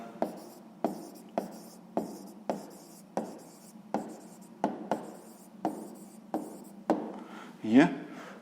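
A pen writes a math answer on paper in close, distinct strokes, about a dozen evenly spaced scratches in a steady rhythm, ending with a longer rubbing sound.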